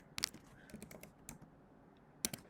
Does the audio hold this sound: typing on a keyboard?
yes